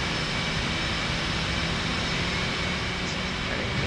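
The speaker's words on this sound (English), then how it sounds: "I'd love to listen to the roar of the jet engines" Steady, loud F/A-18 jet engine roar in the DCS flight simulator, a continuous broadband rumble and whine that holds evenly throughout with no talking.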